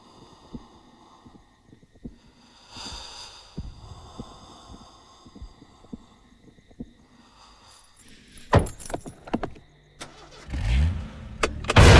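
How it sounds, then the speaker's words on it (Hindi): A car engine cranks and starts in a horror film scene, with sputtering bursts and thumps building to a loud rumble at the end, mixed with other noises. "मैं गाड़ी चला रहा हूँ, तू पीछे बैठ।"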